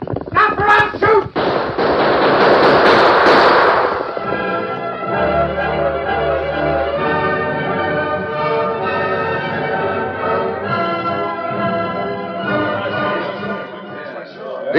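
Gunshots in an old-time western radio drama, a rapid cluster of sharp loud cracks near the start, followed by dramatic music and voices.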